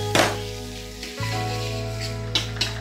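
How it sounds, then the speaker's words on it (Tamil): Green chillies dropped into hot oil sizzle and fry steadily for a few seconds, a close continuous crackle with a couple of sharper spits near the end, alongside a low steady kitchen hum. "ரெண்டு பச்சை மிளகாய் ரெண்டு எண்ணெயில் போடணும்"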